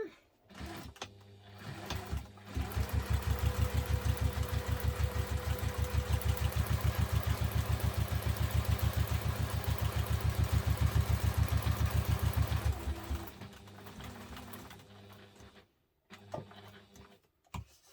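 A sewing machine stitching a messenger bag pocket: a fast, even mechanical chatter that runs for about ten seconds, then stops, with softer handling noises before and after.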